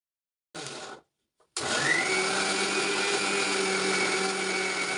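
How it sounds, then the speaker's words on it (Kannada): A mixer grinder blending onion, tomato, curry leaves, coriander and garlic for a home-style paneer masala: a short whirring burst, a brief pause, then a loud, steady high-pitched motor roar running on close up. "ಒಂದು ಜಾರ್ ತೊಗೊಂಡು ಅದಕ್ಕೆ ಉಳ್ಳಾಗಡ್ಡಿ, ಟೊಮೆಟೊ, ಕರಿಬೇವು, ಕೊತ್ತಂಬರಿ ಮತ್ತು ಬೆಳ್ಳುಳ್ಳಿ ಹಾಕ್ಕೊಂಡು ಮಿಕ್ಸಿ ಮಾಡ್ಕೋಬೇಕ್ರಿ"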